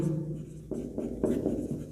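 Chalk or marker writing on a board during a Hindi-medium Class 9 maths lesson on Heron's formula, with short scratchy strokes in bursts over a low steady room hum, close and fairly quiet.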